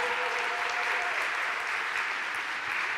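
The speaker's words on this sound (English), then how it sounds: "A round of applause because they did an amazing job" An audience at a climate change summit applauding a team, a steady wash of many hands clapping that lasts about three seconds, with no voices over it.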